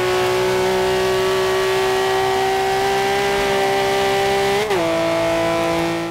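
Racing cars in Forza Horizon 2, a Jaguar and a Ferrari among them, with a loud, steady engine drone held at high revs and a brief pitch dip near the end, like a gear change, then climbing again.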